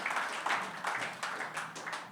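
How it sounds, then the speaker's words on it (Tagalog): Church congregation clapping in praise, a dense wash of many hands applauding steadily in pulsing waves throughout. "Can we give the Lord a clap offering of praise?"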